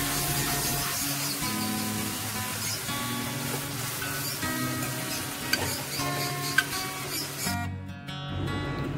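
A spice paste for chicken rezala sautés in oil, a dense, close sizzle with stirring scrapes and a couple of sharp clinks, then a brief sharp drop in the hiss near the end before it resumes.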